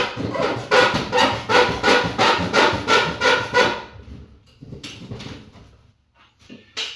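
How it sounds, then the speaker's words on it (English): Plastic model tank parts being sanded with a handheld sanding stick, a steady run of about ten rhythmic back-and-forth rasping strokes, close and loud, then a pause and a few scattered scrapes and light handling noises. "I get them as close as possible and then sand the rest of it off."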